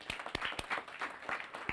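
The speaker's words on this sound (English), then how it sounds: "So I want to applaud you." Sparse, quiet clapping from a small audience at an epidemic-preparedness campaign launch event, a handful of scattered claps spread over a couple of seconds.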